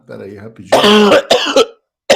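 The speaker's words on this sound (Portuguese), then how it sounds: "cuida da tosse" A person coughs and clears their throat close to a microphone on a remote call, a few harsh bursts followed by a brief spoken word.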